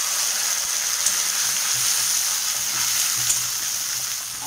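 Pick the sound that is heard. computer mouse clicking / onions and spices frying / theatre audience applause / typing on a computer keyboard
onions and spices frying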